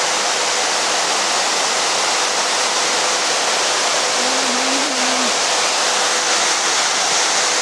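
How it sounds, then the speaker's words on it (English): Water falls steadily inside the cooling tower of a thermal power station, a dense, constant roar like a waterfall that fills the whole clip without a break, with a brief faint tonal hum partway through. "Here you can see the water which are cooling and coming from the top of the"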